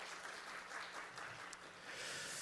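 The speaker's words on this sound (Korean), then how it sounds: "우리 아빠들을 위해서 다 같이 박수 한번 드릴까요?" Applause from a seated studio audience of fathers at a live parenting talk event, a steady soft wash of clapping held at an even level for the whole stretch, with no talking over it.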